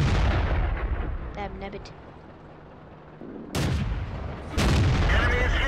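Heavy tank cannon shots in World of Tanks boom loudly, with one blast at the start and two more later, each followed by rumbling decay, while someone speaks over the gunfire.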